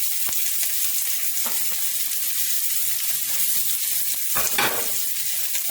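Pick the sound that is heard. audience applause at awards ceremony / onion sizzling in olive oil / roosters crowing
onion sizzling in olive oil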